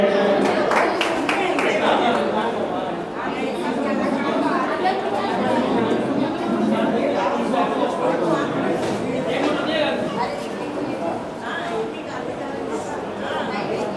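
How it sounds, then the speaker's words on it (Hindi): An audience claps at a stage event honouring cast members of a Hindi play, the applause mixed with loud crowd chatter and voices throughout. "ये हमारे बीच की गुंडी है, जरा तालियां बजाएं"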